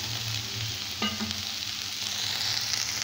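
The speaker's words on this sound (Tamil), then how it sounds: "இன்னும் கொஞ்ச நேரம் அப்படியே ஃப்ரை ஆகட்டும்." Ivy gourd sits frying in a pan, giving off a steady close sizzle with a soft hiss throughout. One brief clink sounds near the start, and no one speaks.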